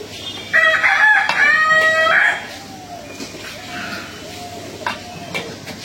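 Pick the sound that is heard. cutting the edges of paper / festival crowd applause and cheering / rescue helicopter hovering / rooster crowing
rooster crowing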